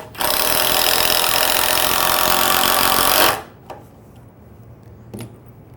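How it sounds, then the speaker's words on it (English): A 12-volt impact driver drives a screw into hard maple with a loud, steady hammering whir lasting about three seconds, then stops, followed by a few faint clicks and handling knocks. "Now let's look at the same tools driving screws into hard maple."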